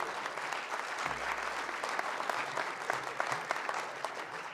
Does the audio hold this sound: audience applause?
yes